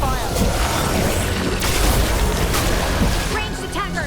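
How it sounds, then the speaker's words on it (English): Heavy gunfire and booming explosions in a Dragon Age The Veilguard battle, a dense, continuous barrage of blasts with sharp bursts around the middle, loud and close under game effects and occasional voices. "We're under fire."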